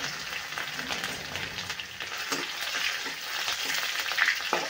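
Garlic fries in hot oil with mustard seeds and curry leaves for a dhaba-style whole masoor dal, giving a steady close sizzle with crackling pops and brief stirring scrapes, and no voices.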